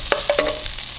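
Seasoned, already cooked shredded chicken reheating in a pan, a brief close sizzle with a few quick stirring scrapes, heard alone.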